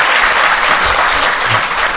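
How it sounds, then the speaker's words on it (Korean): A studio audience bursts into steady, dense applause at a Korean talk show, a loud continuous wash of clapping that holds level throughout with no pauses. "박수 한번 부탁드립니다"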